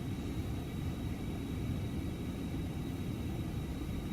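Steady broadband cabin roar inside an Embraer Phenom 300 business jet in a flight simulator game, a constant low rumble with faint high whine, continuous and even throughout.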